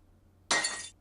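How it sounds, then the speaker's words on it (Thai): Glass shatters in the horror video game No Ghost in Stay Home, a single sudden bright crash that rings for about half a second over a quiet background hum. "เออกระจกแตก"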